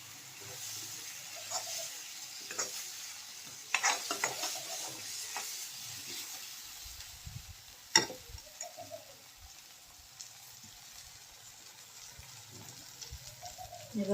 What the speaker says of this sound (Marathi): त्याला चांगलं एक जुळेपर्यंत परतून घ्या